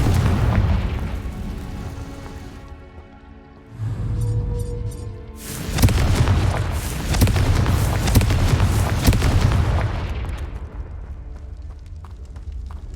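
Booming blasting-curse explosions from the Confringo spell in Hogwarts Legacy, one heavy burst followed by a long, loud rumbling stretch of blasts and debris.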